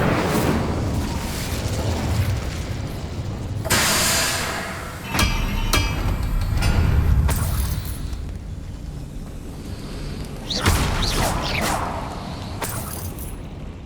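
An Incendio fire spell cast in the Hogwarts Legacy video game, heard as several sharp whooshing bursts and booms over a loud rumbling game background, with no talk.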